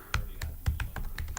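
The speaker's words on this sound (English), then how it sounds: "say I forget my username and I type in something wrong" Computer keyboard typing a username into a login form: a quick run of about eight crisp, close key taps in an uneven rhythm over barely a second and a half, with no voices.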